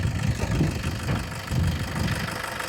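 A 2015 Toyota Innova G variant idles steadily, its engine giving a low, even, smooth beat with mild rhythmic pulsing, close and continuous with no voices.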